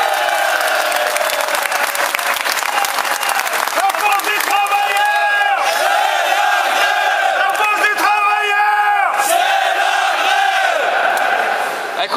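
Loud crowd applause and cheering for militant factory worker teams at a French gathering: sustained dense clapping with rising shouts and chanted voices swelling over it, continuous and close for the whole stretch.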